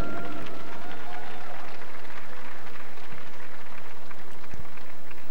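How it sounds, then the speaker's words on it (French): Crowd at a short-track speed skating race applauding the skaters, a dense, steady wash of clapping and cheering from a large indoor audience, with a faint announcer voice and arena noise under it. "Good round of applause for our skaters"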